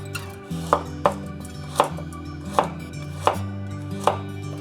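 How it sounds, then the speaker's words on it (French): A knife chops vegetables and Chinese sausages on a cutting board, giving about a half-dozen sharp, evenly spaced knocks over a low steady background, close and clear with no talk. "le temps que je coupe les légumes et les saucisses"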